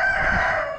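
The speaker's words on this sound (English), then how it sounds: "There's an Arikana rooster." Araucana rooster crowing at a poultry auction, a single loud, close crow drawn out briefly and fading at the end.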